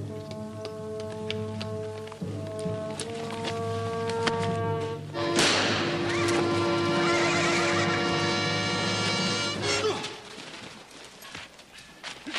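A horse whinnies loudly in several drawn-out, wavering neighs, with hooves clopping and thudding nearby in an outdoor Western setting. The calls rise and fall for several seconds, then trail off into scattered hoof sounds.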